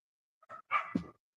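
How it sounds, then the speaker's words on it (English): A few short, high-pitched puppy barks and yips in quick succession, fairly close, with brief gaps between them. "The puppy waiting too, apparently. You hear him barking."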